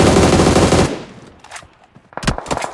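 Sustained bursts of automatic gunfire in a PUBG tournament match, loud and continuous for nearly a second, then scattered sharper shots after a brief lull.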